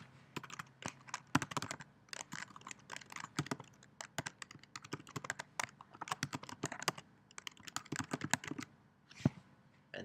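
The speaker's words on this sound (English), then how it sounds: "let me just type this out for you" Rapid typing on a computer keyboard, a dense run of quiet, close key clicks with irregular rhythm and brief pauses, heard alone without voices.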